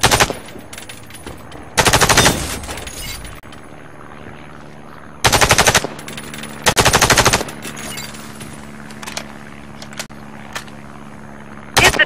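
Rifle fire at targets in Warface training mode comes in loud, sustained automatic bursts. Three or four long volleys are separated by quieter gaps with a few single shots. There is no talking.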